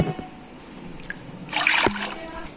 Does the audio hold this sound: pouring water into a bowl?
yes